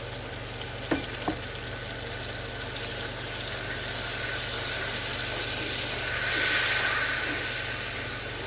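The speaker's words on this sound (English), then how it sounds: "We're going to let that simmer until it reduces down to half." Marsala wine simmering and reducing in a pan makes a steady, low bubbling hiss that swells slightly near the end, with a couple of faint clicks early on and no talk.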